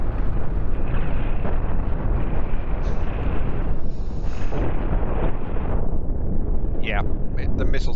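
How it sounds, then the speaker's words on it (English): Missiles pound an enemy ship in the space game Cosmoteer, a loud, dense barrage of overlapping blasts merging into a continuous roaring rumble with sharper crackles near the end, and a voice may sit faintly underneath. "Yeah, the missiles, it just couldn't stop the missiles."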